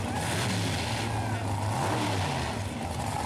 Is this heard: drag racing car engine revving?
yes